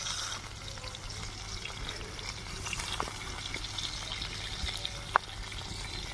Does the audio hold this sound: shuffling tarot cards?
no